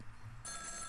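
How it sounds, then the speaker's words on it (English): A telephone rings in a video game, a quiet trilling electronic bell that starts partway through and holds steady under faint background noise. "Oh, but the phone's ringing."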